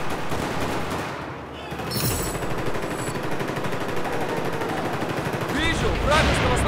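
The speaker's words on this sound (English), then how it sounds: "They aren't even aiming, they're just full auto shooting down this one corridor." Full-auto gunfire in Battlefield 4 on the Operation Metro map, loud, rapid continuous bursts of automatic weapons in close-quarters corridor combat, with clinking shell casings and game effects.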